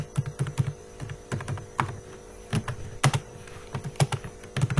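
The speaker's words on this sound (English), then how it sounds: "Let's type a message" Keys clack on a computer keyboard while a message is typed into C++ code, in quick irregular bursts of close, crisp taps over a low steady hum.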